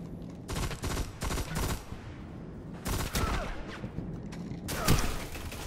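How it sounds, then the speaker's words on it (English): Shotgun fire in a Destiny Iron Banner match: rapid bursts of gunshots in several clusters with short gaps between them, fairly close and sharp, over constant game background noise. "Oh, shotguns! Why is it always gotta be shotguns?"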